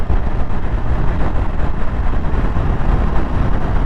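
A 2022 Indian FTR 1200 motorcycle engine drones loud and steady while being ridden, a dense continuous roar without clear rev peaks.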